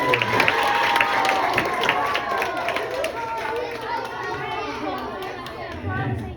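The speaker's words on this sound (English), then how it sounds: "give yourself a big round of applause." A group of children applauds during a classroom science activity, dense clapping and excited chatter filling the room at close range, thinning slightly toward the end.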